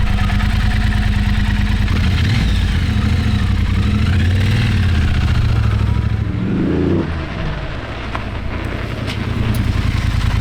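A custom bobber motorcycle with fresh silencers runs loud and close, its engine idling roughly and swelling in a couple of revs before settling back to a steady throb.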